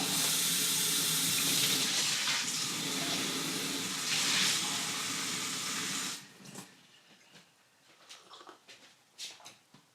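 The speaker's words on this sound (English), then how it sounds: "Let me get another cup of water." Water running from a tap into a cup, a loud steady hissing gush for about six seconds that then cuts off, followed by quieter scattered clinks and handling sounds.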